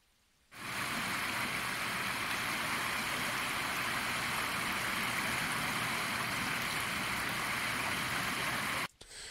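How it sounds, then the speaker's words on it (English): Spatial water sounds from sea footage form a dense, steady rushing wash that starts abruptly and holds at an even loud level for about eight seconds before cutting off, with no voices. "we added the spatial water sounds that we were running through the Reaper program a couple streams ago"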